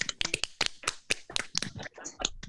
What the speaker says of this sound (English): Everybody can say, give each other a round of applause.